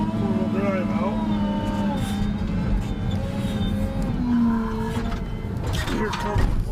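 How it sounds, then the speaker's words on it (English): A log truck rumbles steadily nearby, its low engine drone and whining gear tones filling the whole stretch, with faint mechanical clatter over the top. "Here comes the log truck."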